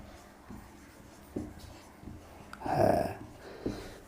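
Pen on paper during a Class 8 geometry lesson: soft, intermittent scratchy strokes with short gaps and one louder scrawl near the end, faint and close with no talking over it.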